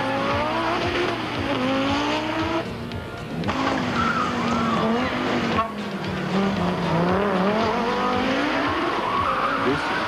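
Inside a short-wheelbase Audi Quattro rally car on a rough final stage of the 1988 Volkswagen Algoa Rally, the engine revs loudly and shifts repeatedly with brief lifts, and a commentator speaks over it.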